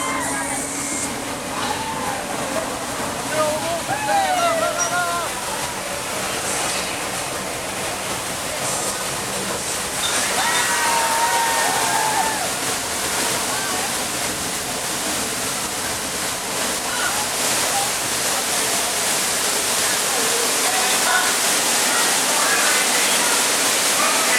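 Water pours and splashes down in a steady, loud, hissing rush during the Disney Studios tour in 2009, continuing throughout while people's voices and crowd noise come through underneath.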